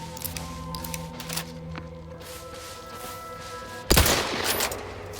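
Gunfire in The Outer Worlds 2 video game: a sudden loud burst of shots near the end, with faint scattered pops and a tonal game ambience before it.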